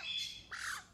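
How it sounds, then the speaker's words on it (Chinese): A free-ranging magpie gives two harsh, rasping squawks in quick succession, close and loud, with no talking. "这个是我一直散养的一只喜鹊啊"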